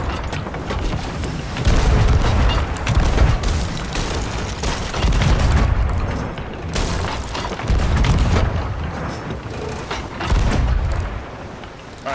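Ship cannon fire in the Sea of Thieves video game, loud repeated heavy booms in irregular bursts over a rumbling, noisy background.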